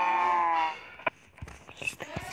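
A low, drawn-out cow moo with a harmonic tone fills the first moment, followed by scattered clicks and soft game sounds, in Minecraft Pocket Edition.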